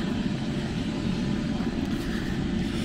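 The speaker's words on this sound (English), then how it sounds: "let's see this Air Force helicopter trying to" An Air Force helicopter in Wote town, Kenya, gives a steady, continuous engine and rotor drone, fairly loud and sustained throughout, with no speech over it.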